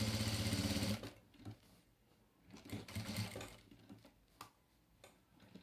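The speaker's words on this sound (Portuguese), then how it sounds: "essa máquina de costura reta aqui" A straight-stitch sewing machine stitches patchwork fabric for a quilt, a loud rapid mechanical whirr that stops after about a second, followed by quieter intermittent ticks and fabric handling.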